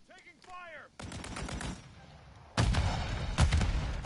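Gunfire in Modern Warfare 3 bursts out in two loud volleys of rapid shots, one in the middle and a heavier one near the end, after brief chirpy game sounds at the start.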